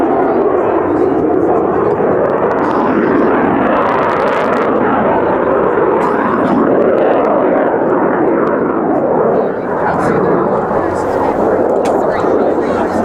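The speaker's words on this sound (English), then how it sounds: "The F-18 will catch up and they will come back for another flyby." Swiss Air Force PC-7 aerobatic team flying in formation with an F-18 at an air show, a loud, continuous broadband jet and propeller roar that swells and sustains overhead throughout.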